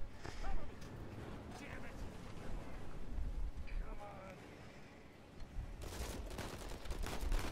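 Video-game gunfire in Uncharted 4, bursts of shots mixed with game sounds, fairly quiet beneath a person talking over the gameplay.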